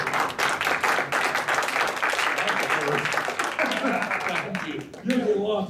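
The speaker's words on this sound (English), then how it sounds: "if we could all give him a round of applause" Board meeting audience breaks into a sustained round of applause, dense clapping filling the room for several seconds, with voices murmuring underneath and a person starting to speak as it tapers near the end.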